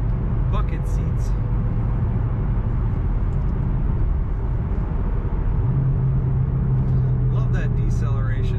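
A 2007 Ford Mustang Shelby GT500 engine drones low and steady as the car decelerates, a continuous rumble close by that shifts pitch partway through, with road noise and occasional talk over it.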